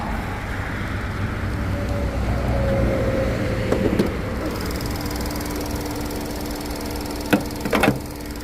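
Ford Focus 2.0 direct-injection petrol engine from a 2013 Sport Plus, idling steadily with a continuous hum and faint ticking, plus a few sharp knocks near the end.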